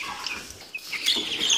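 Ross 308 broiler chicks, about three weeks old, peep and cluck softly in an indoor brooder, a brief faint burst of overlapping high calls.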